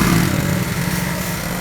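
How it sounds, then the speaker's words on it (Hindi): Motorcycle loaded with grass, its engine running loud and steady at close range without pause, with no talk over it. "वो अपना घास मोटरसाइकिल पर लोड करके जा रहा है घर"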